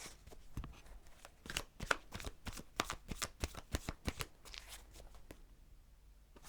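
A deck of tarot cards is shuffled up close in quick, rhythmic bursts of riffling and snapping that go on for several seconds, then trail off into quiet.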